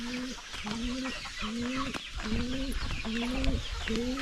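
Two hens clucking close by in a Filipino backyard, repeating in a steady rhythm of short calls with bird noise behind and no talk.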